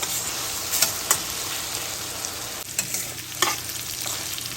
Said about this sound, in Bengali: এখন আমি কচুরলতিগুলো সিদ্ধ না হওয়া পর্যন্ত ভেজে নেব।